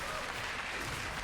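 Steady applause from an LCS esports crowd at a League of Legends match, a soft continuous wash of clapping heard at a distance with no voices over it.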